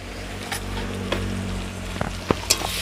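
Banana flower and egg curry with salt, turmeric and a little sugar is stirred in a pan over a gentle sizzle. A spatula scrapes and taps several times, with the strokes growing sharper and closer toward the end.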